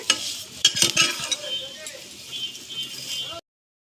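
Vermicelli (semai) stirred and fried in a pan over low heat, with a spoon scraping and clinking in quick strokes over a soft steady sizzle, close by, ending abruptly.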